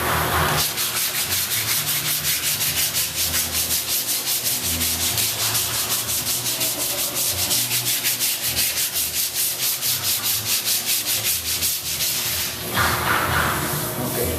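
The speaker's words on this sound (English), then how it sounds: "The key of the sanding by hand is also the up and down motion to keep your shape" Steady, rhythmic scraping of 80-grit sandpaper rubbed up and down by hand over body filler, close and continuous throughout.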